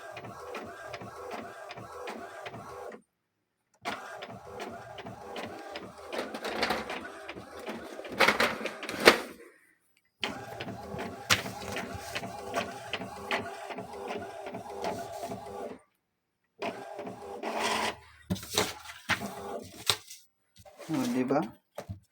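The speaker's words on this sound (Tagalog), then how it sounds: "Tapos, nagpiprint siya dun." An old 3-in-1 printer with a damaged print head runs through a print job, giving repeated mechanical clatters, whirs and rhythmic carriage shuttling, broken by short pauses, close up and fairly quiet.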